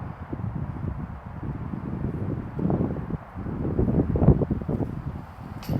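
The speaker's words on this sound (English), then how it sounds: "We have a very, very stiff headwind." Stiff headwind gusting across an open disc golf course at Zilker Park, buffeting the microphone with low rumbling surges that swell and ease over several seconds, no talk.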